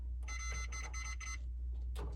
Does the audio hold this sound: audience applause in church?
no